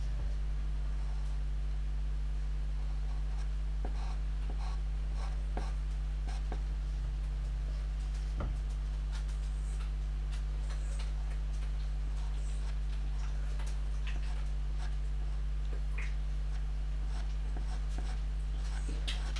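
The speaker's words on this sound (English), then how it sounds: "I can really then use the pencil to accentuate areas of it or to move" Pencil working over soft pastel on paper, a faint, steady scratchy rasp of fine strokes with scattered small ticks, heard alone and close under a constant low hum.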